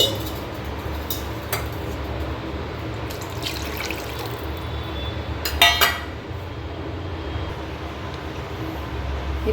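Water poured into a pan while cooking semiya khichdi, a steady watery rush with a few brief clinks and splashes near the middle, no talking.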